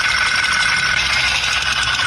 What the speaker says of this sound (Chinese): 活塞销断裂异响